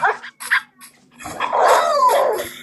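Dogs bark in the game Minecraft, a few short yips followed by a longer burst of overlapping barks and growls, fairly close and loud.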